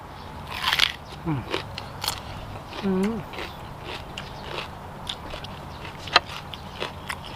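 Sweet bell peppers in red, yellow and green being bitten, with a few sharp crisp crunches spaced out between quieter chewing; close and fairly soft.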